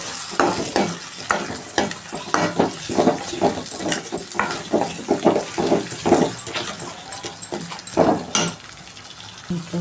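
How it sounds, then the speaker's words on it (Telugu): Mutton keema being stirred in a pan with masala powder and turmeric, a close, rhythmic series of scraping, sizzling strokes repeating about every half second over a low frying hiss, with no voices. "మసాలా పొడి, అలాగే పసుపు వేసి బాగా కలుపుకోవాలి"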